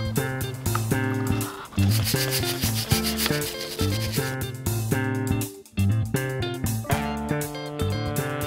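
Brush scrubbing an aluminum engine intake manifold with cleaner: continuous close rhythmic rubbing and scraping strokes, busy and steady with one short pause, and no voices.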